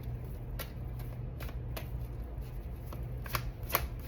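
Tarot cards shuffled and drawn by hand, a series of quick, soft riffling flicks and slaps close by, irregularly spaced over a faint steady background hum.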